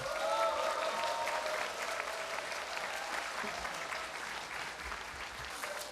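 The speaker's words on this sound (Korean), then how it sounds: "진우 스님을 큰 박수로 함성으로 모시겠습니다." A large seminar audience at a Buddhist event gives a steady, dense round of applause to welcome a Jogye Order monk to the podium, sustained and even throughout with a few faint voices mixed in.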